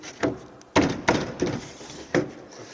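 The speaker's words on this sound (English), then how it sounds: "Push our clips in." Plastic Christmas-tree style clips pushed into a car's interior door panel: five or six separate dull, close thunks and snaps at uneven intervals, with no talk.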